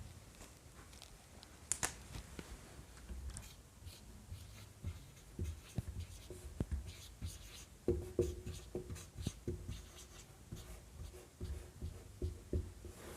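Notes are written by hand during a lecture. Quiet, close pen strokes scratch and tap steadily over a faint room background, with small clicks scattered throughout.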